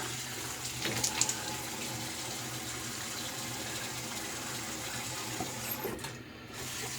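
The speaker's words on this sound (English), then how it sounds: "All right, let's rinse off." A bathroom tap runs steadily into a sink for rinsing after a wet shave, a soft continuous splashing hiss with a few brief clinks early on, fairly quiet and without speech.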